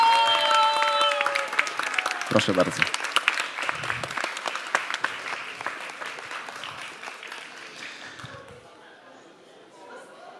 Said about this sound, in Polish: Gorące brawa dla Ani.